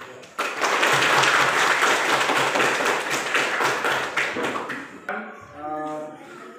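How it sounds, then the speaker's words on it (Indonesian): A classroom of students claps for a group presentation, a dense burst of hand claps that starts abruptly, holds steady for about five seconds, then stops as a voice begins speaking. "Mari kita memberikan aplaus atau tepuk tangan kepada kelompok 1."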